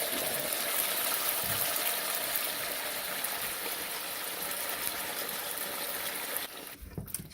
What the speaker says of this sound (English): Then I add water to the can so that whatever was there still comes in.